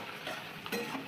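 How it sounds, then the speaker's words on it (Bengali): Onions frying in oil with cardamom, cinnamon and garam masala in a pan, a soft continuous sizzle broken by a couple of brief stirring scrapes. "এবার পেঁয়াজটা ভাজা হবে"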